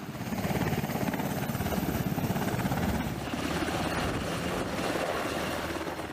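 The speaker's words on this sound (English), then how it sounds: "The helicopter, in this case, a CH-53E Super Stallion, hovers above the deck" A CH-53E Super Stallion helicopter hovers above a ship's deck, its heavy rotor chop and engine roar loud, dense and continuous throughout, with no pause.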